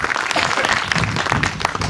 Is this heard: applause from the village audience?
yes